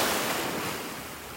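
Rough surf rolls in at a beach in North Naples, Florida, a steady wash of breaking waves with wind noise, loud at first and easing slightly.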